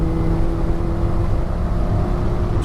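A Volkswagen Golf GTI MK1 with its 1800 engine drones loud and close, holding a steady, rough hum with no clear rise in revs.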